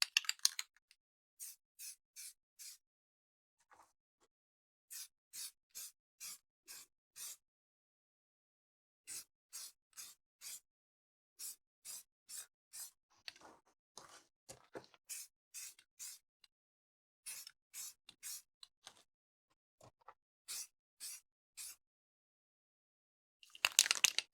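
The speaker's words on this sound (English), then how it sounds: "make sure to test spray before you actually start spraying something important" Short sharp hisses of a spray paint can on an Mk18 clone rifle, fired in quick repeated bursts with pauses between clusters, close and fairly quiet.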